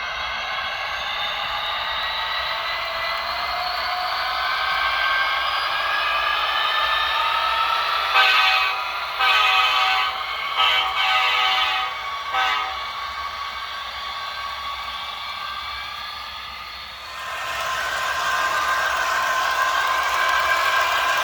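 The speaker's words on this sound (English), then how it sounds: "those are some awesome sounding locomotives" Two Broadsword BLI model locomotives, a Great Northern S2 4-8-4 steam engine and EMD F units, run double-headed, giving a steady loud mechanical rumble and hiss that swells and fades, with brief bursts midway.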